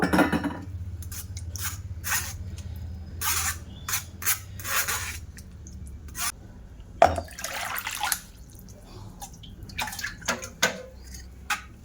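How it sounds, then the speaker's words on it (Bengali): Sago pearls rinsed by hand in clean cold water, with bursts of splashing and sloshing in an uneven rhythm, close and moderately loud, with faint dripping and a low background hum between the washes; no one speaks. "আর এই পরিষ্কার ঠান্ডা জল দিয়ে আবার একটু সাবুগুলো ভালো করে ধুয়ে নেব"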